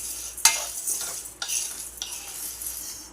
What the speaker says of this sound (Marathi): ही पण आपण खमंग भाजून घ्यायची आहे